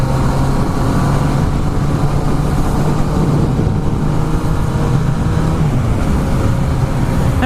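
A Yamaha XSR900 motorcycle being ridden, a loud steady engine drone with rushing wind and road noise throughout, heard from the rider's position and holding an even pitch.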